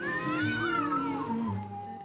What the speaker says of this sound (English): The cat simply appeared at this Istanbul fashion school show.